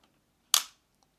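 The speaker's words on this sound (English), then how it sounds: "There it is, there's our shutter opened up." A camera shutter, as in a basic camera-workings demonstration, gives a single sharp, close mechanical snap lasting a fraction of a second, with near silence before and after.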